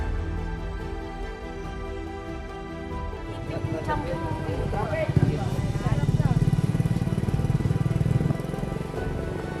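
A motorcycle carrying riders travels a rough, potholed unpaved road, its engine droning close and steady with bumps and rattles, while people talk over it.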